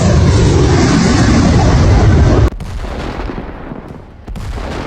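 HIMARS rocket launcher firing at a Russian SAM site: a loud, sustained roaring blast for over two seconds that cuts off abruptly, followed by a quieter rumbling tail with a brief dip and another burst.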